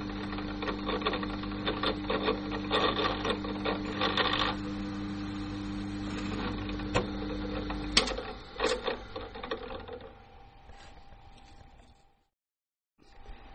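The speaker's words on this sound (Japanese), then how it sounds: "じゃあまあ穴を開けていきましょう" A drill bores holes through a plastic Stratocaster pickguard with steady, continuous whirring and grinding, then a few sharp clicks before the sound stops abruptly.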